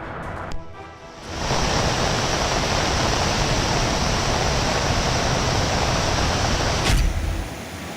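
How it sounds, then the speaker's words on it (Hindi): Floodwater rushing down from the mountain after a cloudburst, a loud, dense roaring wash of water that starts abruptly after a short quieter moment and continues steadily. "पहाड़ तोड़कर पानी जमीन पर आ रहा है"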